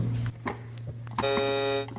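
A buzzer is pressed, sounding one harsh, steady electronic tone for well under a second after some low background murmur and handling noise.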